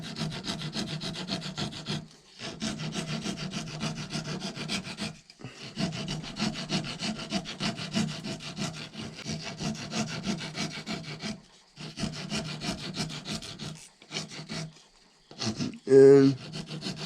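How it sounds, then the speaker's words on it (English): A 4-in-1 rasp files down a wooden peg for a powder horn in long, gritty strokes. The rasping comes in sustained bursts split by short pauses, steady and close, with a brief knock near the end. "I will take the trusty 4-in-1 rasp"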